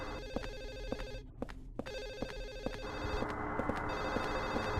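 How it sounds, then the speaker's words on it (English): A telephone in the Silent Hill 4 video game rings steadily in repeated electronic bursts, fairly loud and close, set against a dense, droning ambient background. "Man, it sounds like the phone is right in this room,"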